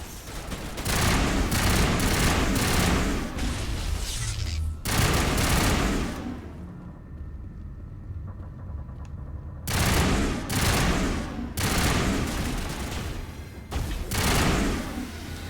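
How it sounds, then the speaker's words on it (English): Geth enemies firing weapons in the video game Mass Effect: dense, sustained bursts of automatic gunfire that break into a brief lull, then return in several loud volleys. "Like more Geth shooting at us already."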